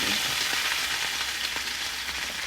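Shrimp sautéing in a hot pan for a Filipino sotanghon dish, a steady close, loud sizzle with faint stirring clicks throughout and no voices.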